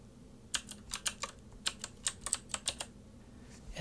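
Someone types a password on a computer keyboard in a quiet room, about a dozen crisp, separate keystrokes in an uneven rhythm, close and clear with no talking.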